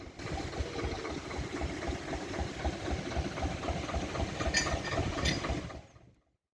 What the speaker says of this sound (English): here's that train then. It's got a diesel at each end